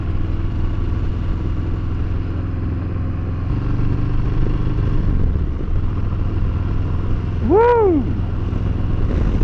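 A Harley-Davidson Fat Bob rumbles along on a ride, its engine droning steadily with a rise in revs midway, loud and close, and a rider lets out a brief excited shout near the end.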